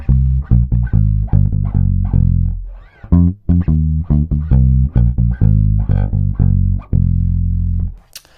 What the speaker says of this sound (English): The fill is basically just coming down an F Dorian scale